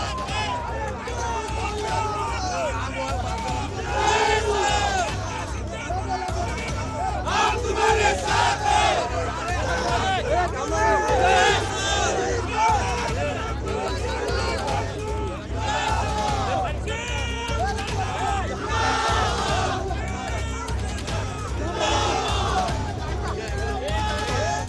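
Party workers with a minister celebrate an election win in Shrivardhan, a loud crowd cheering and shouting in continuous rising bursts, with voices chanting and calling throughout.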